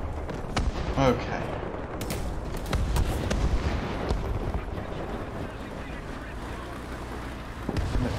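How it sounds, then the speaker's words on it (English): Artillery fire in War Thunder booms out as several heavy, irregular blasts over a steady rumble of battle noise, with a short spoken word near the start. "The artillery over there."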